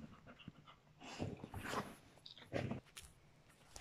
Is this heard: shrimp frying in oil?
no